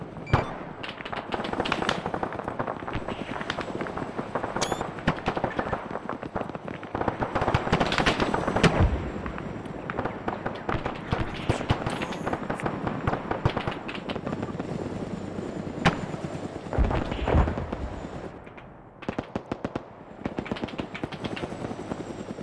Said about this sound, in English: We are being engaged from multiple positions by small and high caliber gunfire